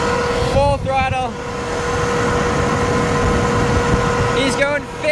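Electric scooter at full throttle, an Arvala M11 Hyper, heard as steady loud wind rush and road roar with a faint motor whine, while voices shout over it.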